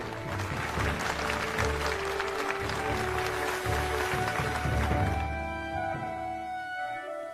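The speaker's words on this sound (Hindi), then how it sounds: "ताली बजाओ और जोर से।" Crowd applause in a Hindi film drama scene: a dense, steady wash of many hands clapping for about five seconds, then breaking off as sustained tonal sounds take over.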